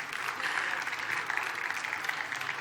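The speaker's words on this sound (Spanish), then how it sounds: "un aplauso para Terrassa" A crowd claps steadily for Terrassa at a vegan festival talk, in an even, sustained round of applause heard from within the audience.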